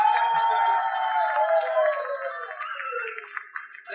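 At a Pongal celebration prize distribution function, an audience gives a fairly close burst of clapping that thins and fades toward the end.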